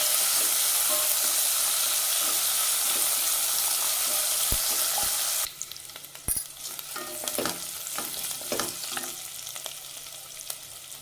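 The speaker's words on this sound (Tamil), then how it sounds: "2 வெங்காயம் கட் பண்ணி சேர்த்துக்கலாம். நல்லா வதக்கிக்கணும்." Chopped onions fry for bisi bele bath: a loud, steady sizzle in the pan fades after a few seconds into quieter frying with scattered spoon scrapes and stirring clinks.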